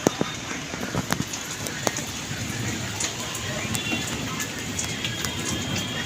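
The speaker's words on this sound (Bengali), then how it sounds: "কী পরিমাণ ঝড় হচ্ছে আমাদের এদিকে দেখো বৃষ্টি ঝড় দুটোই লেগেছে" Steady rain pattering in a storm with a rushing, windy wash of noise, a few sharper drops and crackles early on; no talking.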